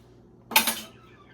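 A utensil clinks and scrapes against a bowl once or twice as food is mixed, a short close clatter in an otherwise quiet room.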